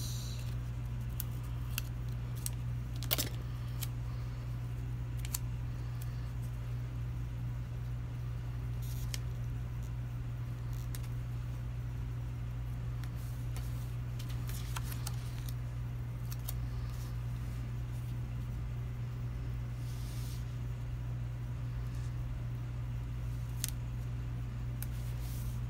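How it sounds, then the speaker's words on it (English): Scissors snip through paper while assembling an A5 planner, faint sparse clicks and crisp cuts over a low steady hum, with no talking. "And I'll cut this in half."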